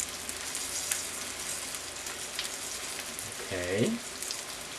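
Chicken pieces fry in hot oil on a home stove with a steady, crackling sizzle close up. A single short spoken word breaks in near the end.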